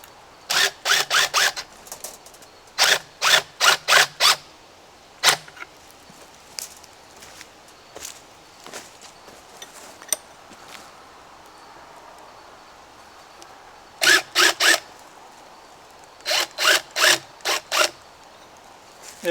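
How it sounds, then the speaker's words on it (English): Lag bolts being driven into a wooden H-brace for a woodland fence, bursts of rapid ratcheting or impact-driver rattles in short clusters, with quiet outdoor pauses and faint handling noises between them. "we're going to get our lag bolts started"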